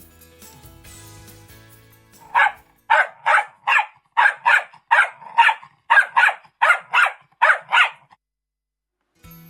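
A dog barks repeatedly and aggressively up close, a rhythmic series of about fourteen loud barks in steady bursts, then silence.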